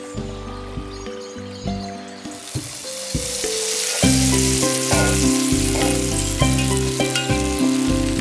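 Spices tempering in hot oil for a dish of wild vegetables, cooked outdoors in the forest. A broad, steady sizzle rises after about two seconds and continues over background music.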